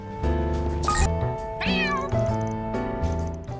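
A little gray cat in the video game Trails Through Daybreak II gives a drawn-out, plaintive meow over steady game music, loud and close, with a brief sharp sound effect just before it.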